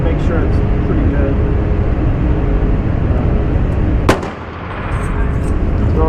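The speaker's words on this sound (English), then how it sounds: "Got 3 shots, just to make sure it's pretty good." A single sharp report from a Daniel Defense H9 pistol at an outdoor shooting range cracks out over loud, steady wind and background noise, while someone talks nearby.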